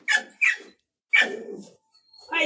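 Dog barking in short sharp bursts, three or four loud close barks separated by brief pauses, with no talk over them.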